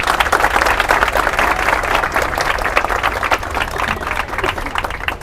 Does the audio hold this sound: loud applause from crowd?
yes